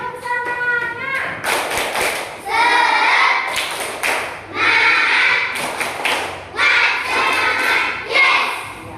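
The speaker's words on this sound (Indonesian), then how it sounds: "kita tepuk semangat dulu yuk" Classroom of students doing a rhythmic clapping chant, bursts of quick claps and taps in repeating patterns with children's voices chanting along, loud and close.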